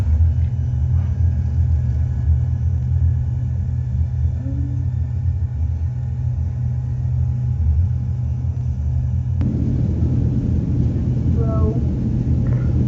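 An airplane takes off in a video game, a loud steady low rumble of engines droning throughout, swelling slightly partway through, with faint higher tones on top.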